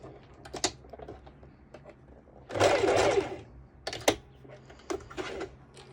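Sewing machine running a straight stitch along a seam on bikini bottoms, a short burst of about a second and a half between light clicks and fabric handling.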